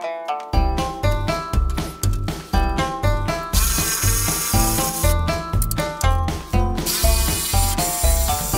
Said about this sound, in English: let us proceed with removing the 13 millimeter bolts